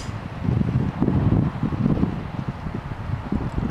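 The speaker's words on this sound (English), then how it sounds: "the wind now picks up" Wind blows steadily around a HYE HY-1000L wind turbine, a low, gusty rumble with buffeting on the microphone that swells and eases throughout.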